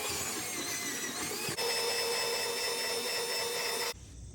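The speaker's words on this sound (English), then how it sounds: "So I'm gonna use my belt sander, see if I can get it a little bit smoother." Belt sander running steadily on the wavy fibreglass wall of an RV camper trailer, a loud continuous abrasive whine with a brief dip partway through, then cutting off near the end to a quieter background hum.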